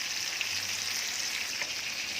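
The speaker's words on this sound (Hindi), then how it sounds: "एक इधर भजी फ्राई कर रही हूँ" Bhaji frying in a pan of oil makes a continuous, even, bright sizzle, close up and unbroken, with no voices.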